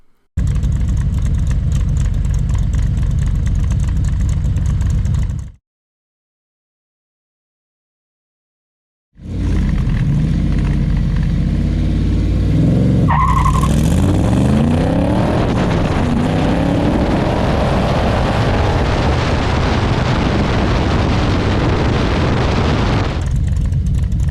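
A Factory Five Cobra revs hard through a 0-60 mph acceleration run, pulling up through second gear with a rising, loud engine roar. A short silent gap breaks the sound before the engine note returns and climbs again.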